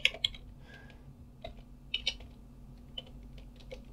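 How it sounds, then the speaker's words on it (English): Computer keyboard typing a command, a few sparse, soft key clicks scattered over quiet background hum, close by and without speech. "So now that what we want to do is type in apt install"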